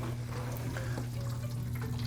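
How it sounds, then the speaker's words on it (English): Water rushing into a dishwasher at the start of a normal cycle, a steady close hiss and trickle over a low mechanical hum, the unit having a broken water valve and leak; no talking. "the water's coming in right away"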